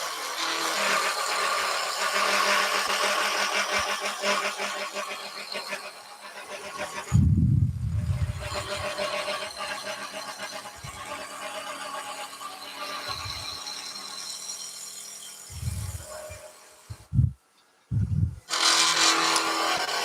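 A wood lathe spins a wooden magic wand blank while a skew chisel shaves it, a steady broadband whir with scraping texture running almost continuously, broken by brief pauses and a few low knocks near the end.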